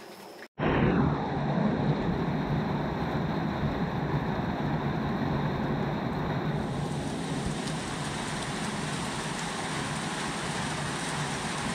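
Steady, heavy rainstorm roars continuously after a brief quiet start at a forest campsite, a dense unbroken hiss with no voices.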